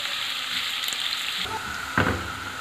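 Steady hiss and crackle of onions frying in a pan until medium brown, with a brief clatter of stirring near the end.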